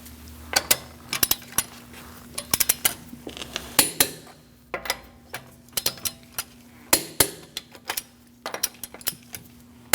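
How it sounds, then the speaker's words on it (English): A torque wrench tightens the front wheel lug nuts on a 2012–2020 Chevrolet Sonic to 100 foot-pounds in a star pattern, giving close, sharp metallic clicks and ratcheting in irregular clusters, with no talking. "We're going to torque our wheels to 100 foot-pounds."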